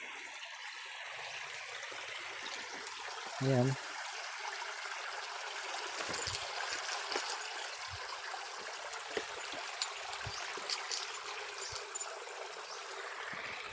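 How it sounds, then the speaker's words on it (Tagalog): A river flows steadily at a quiet campsite in Barangay Bukal, Tiaong, Quezon, giving a constant watery wash and gurgle with small splashes throughout. A single brief word is spoken near the start. "Saka naririnig mo yung lagaslas ng tubig."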